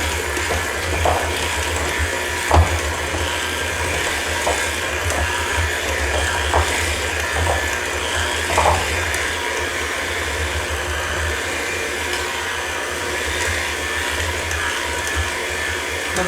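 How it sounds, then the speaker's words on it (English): An electric stand mixer runs steadily at low speed, blending cupcake batter for keto raspberry cheesecake red velvet cupcakes, with a continuous close whirring hum and faint clinks from the bowl throughout. "That's why I try to bring the speed down on this"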